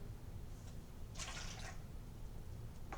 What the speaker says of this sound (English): our first order of business is dump out the water.